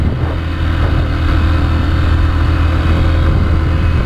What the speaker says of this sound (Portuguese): Vamos dar uma acelerada aí.